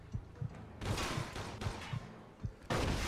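Gunfire rings out in the video game Mafia II, with sharp shots and thumps followed by longer bursts of automatic fire and hissing noise, loud and close, with no speech over it.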